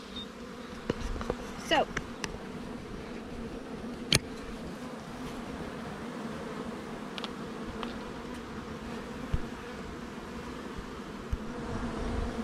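Honey bees hum in a low, steady buzz during a Langstroth hive inspection, with scattered sharp clicks and knocks and one brief spoken word near the start.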